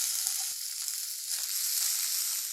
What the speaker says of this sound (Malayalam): ദാ ഒരു മൂന്ന് വറ്റൽമുളക് ഇട്ട് കൊടുത്തു